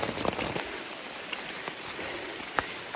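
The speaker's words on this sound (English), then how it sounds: "so much rain, and it's going to rain all day according to the weather forecast" Rain falls on a campsite in the woods, a steady patter with scattered louder drops landing close by, fairly quiet and with no voices.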